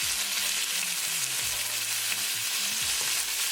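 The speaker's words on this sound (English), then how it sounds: "And now keep it moving and keep cooking with the tadka." Jumbo black tiger shrimp fry in a pan with tadka while being stirred, giving a loud, steady sizzle that fills the whole stretch with faint scraping motion underneath and no talking.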